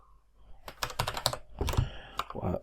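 Fast typing on a computer keyboard, a close burst of crisp key clicks in quick irregular runs with short pauses, no voice over it.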